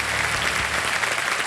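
Studio audience applauding on a Hindi television quiz show set, a steady broadband wash of clapping held at even loudness for the whole stretch, with no talk over it.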